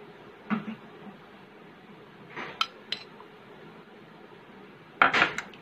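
A spoon stirs honey into amla gooseberry juice in a glass, giving a few scattered light clinks against a quiet room background.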